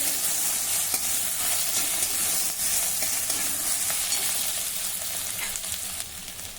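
Green chili and ginger paste, with fennel seeds and poppy seeds, sizzles in a hot pan. The crackle is dense, bright and constant, close by, and stays fairly even before easing slightly, with no voices.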